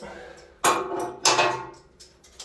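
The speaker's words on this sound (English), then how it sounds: "I cut these little angle pieces and I got a clamp" A clamp is fitted onto small cut pieces of metal angle inside a home-built personal submarine, giving two loud metallic clanks about half a second apart and a fainter knock at the end, with light background noise.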